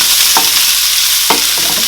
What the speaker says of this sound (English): I am going to add our sausages, and we are going to fry